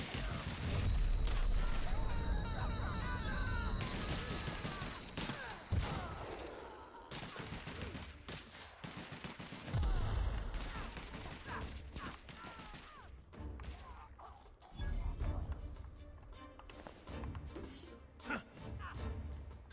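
Gunfire in The Outer Worlds video game, loud bursts and fusillades with mechanical clatter and booms, close and dense, with a voice talking over parts of it.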